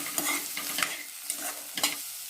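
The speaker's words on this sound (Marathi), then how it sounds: "चिरलेले कारलं टाकूया।" Chopped bitter gourd fries with onion in a pan, a close steady sizzle punctuated by several clacking stirs and scrapes of a spoon.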